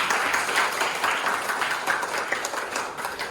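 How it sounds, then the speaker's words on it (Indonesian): A classroom of students claps together in a brisk, steady burst, a close, busy patter of many hands lasting a few seconds with no voices over it. "Tepuk tangan untuk kita semua"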